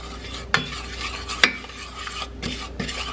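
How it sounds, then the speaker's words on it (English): Spoon stirring onion powder, salt and pepper into melted butter in a pot, giving a faint sizzle with scraping strokes and two sharp clinks of the spoon against the pot, no talking. "I'm going to add in my onion powder, salt, and pepper mixture. Kind of stir that up in there."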